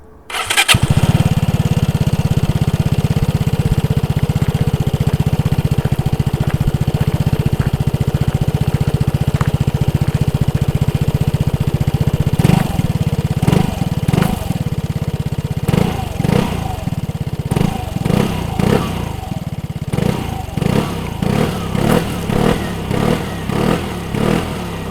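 A 2020 Piaggio Liberty 125 scooter engine starts with a sharp catch and idles loudly and steadily, then revs in repeated bursts toward the end.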